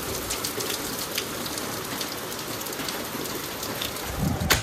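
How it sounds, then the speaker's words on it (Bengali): Heavy rain pouring down steadily, a dense continuous hiss of drops drumming on surfaces, loud and close, with a slight swell near the end. "বিশাল জোরে বৃষ্টি হচ্ছে।"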